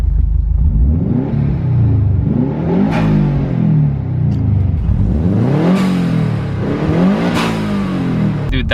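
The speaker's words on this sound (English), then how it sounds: "That is so much louder than stock that you actually hear the blowoff" Subaru turbo engine with a louder-than-stock blowoff valve, revving repeatedly in loud rising and falling surges, with sharp blowoff hisses as the revs drop.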